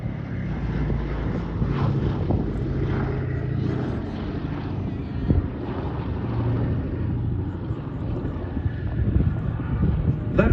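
B-17 Flying Fortress bomber flying past at the Duxford summer airshow, a steady multi-engine propeller drone at moderate distance, mixed with wind buffeting on the microphone.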